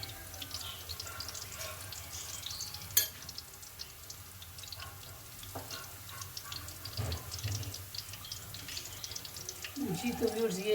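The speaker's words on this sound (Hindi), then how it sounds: "ये जब तक फ्राई होते हैं फिर मैं आपको दिखाती हूँ" Pakoras fry over slow heat in oil in a home kitchen, a soft continuous sizzle under faint clatter and a few sharp knocks, growing slightly louder near the end.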